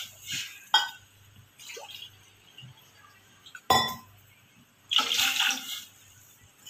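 Half a cup of water is poured into a pot on the stove for masala tea, with a splashing gush and a few clinks of the cup against the pot, close and fairly quiet.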